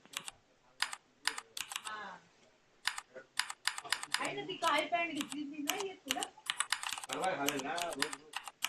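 Quick bursts of typing on a computer keyboard during a live coding session, clusters of close clicky keystrokes with pauses, interleaved with someone talking quietly.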